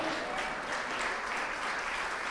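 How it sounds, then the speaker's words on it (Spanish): A congregation's women applaud in a steady wash of clapping, soft and somewhat distant, with no voices over it. "Las mujeres aplauden, los hombres no."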